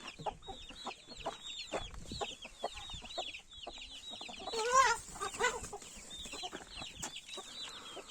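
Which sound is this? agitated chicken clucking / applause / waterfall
agitated chicken clucking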